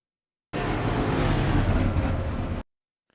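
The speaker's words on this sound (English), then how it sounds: "God, imagine if your street car sounded like that" A race car engine roars loudly and steadily in the iRacing sim at Gateway, a continuous close burst of about two seconds that cuts off abruptly, with no talk over it.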